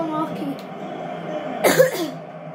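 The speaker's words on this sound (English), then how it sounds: "Sorry about the cough." A single sharp cough bursts out mid-clip during a football commentary over Manchester United against West Ham, with a soft voice talking before and after it.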